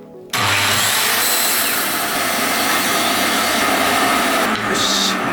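A power saw starts abruptly and cuts steadily through wood along a marked line in a DIY workshop, a loud continuous whining roar that holds for several seconds, up close, with a brief shift in tone near the end.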